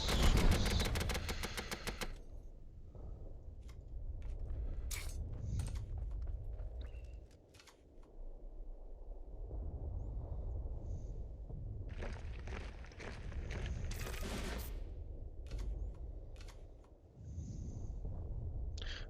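Rapid bursts of gunfire in the card game Kards, loud and close, mixed with crackling effects and a busy low rumble, with short pauses between volleys.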